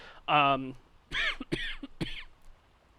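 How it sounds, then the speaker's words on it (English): A man coughs a few times in quick succession, with throat-clearing bursts, close to the microphone against a quiet background. "I apologize with the cough"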